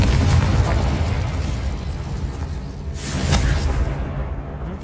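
Confringo explosion spells cast in the video game Hogwarts Legacy, a loud booming blast that rumbles and fades, followed by a second burst of impacts, with no talking.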